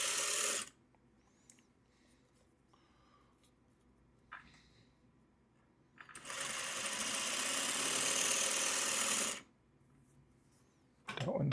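Sewing machine stitching half square triangles in bursts, a fast buzzing whir at close range, with a short run at the start, a longer three-second run later and a brief restart at the end, separated by quiet handling noises.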